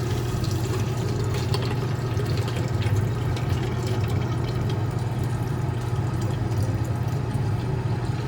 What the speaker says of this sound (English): We're gonna pour our filtered, pure chloroauric acid solution into this beaker now.